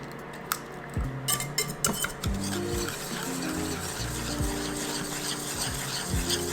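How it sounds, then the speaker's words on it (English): Sugar and eggs whisked together in a pot or double boiler for Meyer lemon curd, producing quick wet clinks and scraping swishes. The strokes come in an uneven rhythm, close by, with no talk. "whisk that up until it's nice, ribbony, and smooth"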